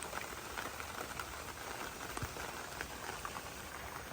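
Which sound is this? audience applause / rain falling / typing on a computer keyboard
rain falling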